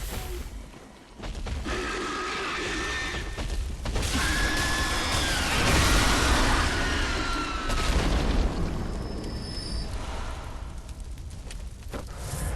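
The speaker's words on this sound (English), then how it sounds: "Again, just a massive explosion for literally no reason." A massive explosion in the video game Bloodborne, a heavy rumbling boom that swells and lingers for several seconds amid crackling debris and layered game effects, with no talk over it.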